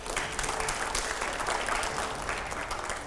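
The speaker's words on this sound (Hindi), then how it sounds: "जोरदार तालियां बजाइए एक बार।" An audience applauds warmly at a Hindi political interview event, dense sustained clapping from a large crowd filling the whole stretch.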